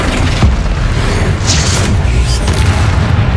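A Confringo explosion spell going off in the game Hogwarts Legacy: a loud, heavy boom with deep rumble that stays dense and sustained through the whole clip, with a few brief bursts on top.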